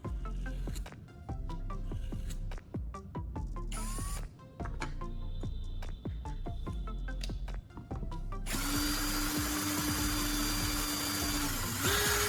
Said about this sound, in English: I'll carefully hold the blade against the spinning sanding drum, applying even pressure along the edge.